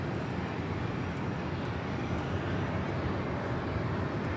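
A jet airliner takes off from runway 25 right at Los Angeles International Airport, a steady broadband engine roar heard from a distance and holding at an even level throughout, with no voices.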